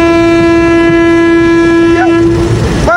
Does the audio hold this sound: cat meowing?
no